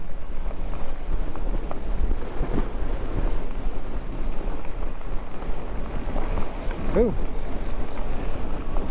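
Steady wind buffets the microphone with a constant low roar during a bike ride on the Katy Trail, and a voice briefly calls out over it.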